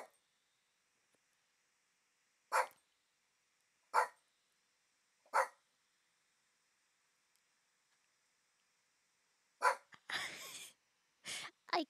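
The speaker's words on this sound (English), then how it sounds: "I don't know why my dog is barking." A dog barks several times at spaced intervals, then a cluster of quicker barks and a snort-like huff near the end, close by.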